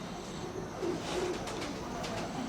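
A slate-grey male pigeon of a show breed coos softly in a few low, rounded murmurs against faint background noise, with no talking over it.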